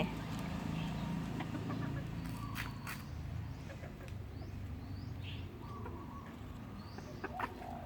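Faint clucking from a few chickens over a steady low background hum, with occasional louder calls standing out.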